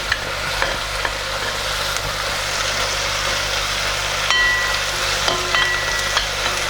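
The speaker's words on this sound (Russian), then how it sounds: "Затем добавляем томатную пасту. И все перемешиваем." Vegetables with added tomato paste fry in a pan under a continuous close sizzle, broken by occasional clinks and scrapes of a spoon stirring.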